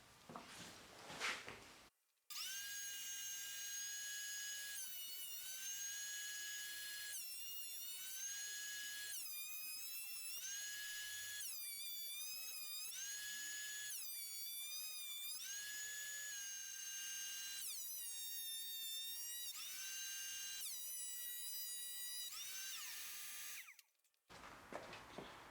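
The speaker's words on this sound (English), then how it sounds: "once that glue is all dry, then we can go ahead and run this through the planer" A thickness planer runs continuously as a glued-up Roubo workbench board is fed through it for flattening, giving a loud, high whining machine tone that rises and dips in repeated passes, alone and up close.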